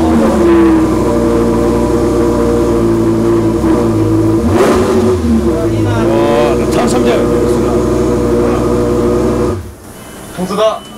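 Supercar engine with a modified exhaust revving up close, a loud, throaty roar with rising and falling revs and a sharp blip near the end, with people talking over it.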